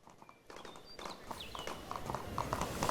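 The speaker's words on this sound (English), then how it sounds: "And you don't even have to run the horse. You want to take a nice trot." Horse hooves trot in a steady clip-clop rhythm in the open-world RPG Gedonia, close and growing louder over about three seconds, with light game ambience underneath and no talking.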